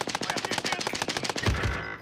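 Rapid automatic gunfire in the video game Call of Duty Warzone, a fast steady rattle of close shots for most of two seconds, ending in a couple of heavier bursts.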